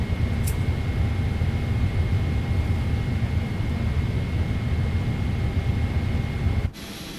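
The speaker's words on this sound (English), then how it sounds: "request pushback and engine start" Engines of a Jin Air Boeing 777-200ER start during pushback at Gimpo, a steady, dense roar with a faint constant whine; it runs unchanged until it drops sharply near the end.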